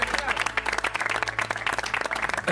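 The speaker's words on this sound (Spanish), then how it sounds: "Un aplauso para Diego Márquez." A television studio audience at La Voz Argentina 2018 breaks into dense, continuous applause for Diego Márquez, loud and close throughout.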